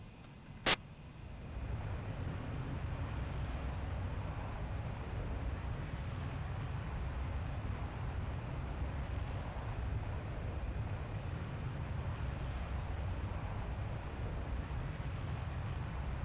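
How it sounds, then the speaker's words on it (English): An AJS37 Viggen jet engine in afterburner during takeoff from a road base, in a flight simulation game, gives a loud, steady roar that builds after a brief click and holds evenly throughout, with no talking. "Advance throttle into afterburner."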